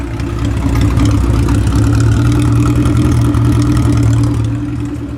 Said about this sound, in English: The mini truck now has an exhaust.